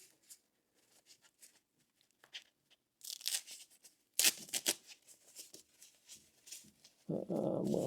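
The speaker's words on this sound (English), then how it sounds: "Again, just nice tape here. Pulls off very easily." Tape is peeled and torn off a plastic bag, giving sparse crinkles followed by louder ripping and crackling bursts up close, ending in a sustained rustling noise.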